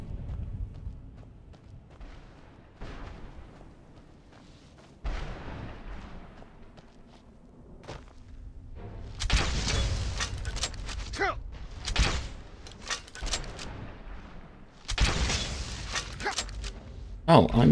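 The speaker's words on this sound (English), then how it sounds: "Oh, I'm using the exploding bolts." Exploding crossbow bolts fired in Skyrim, heard as several loud, sharp bursts and blasts spread across the stretch, with a person talking throughout.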